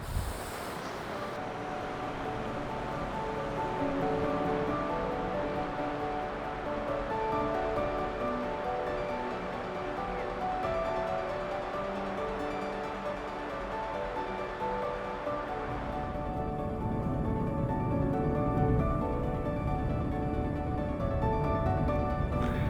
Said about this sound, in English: the noise of the flow of the water and how clean the water is actually